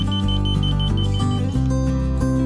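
Carbon monoxide detector alarm sounding continuously and loudly, a steady electronic tone with layered pitches that shift a few times, no voices present.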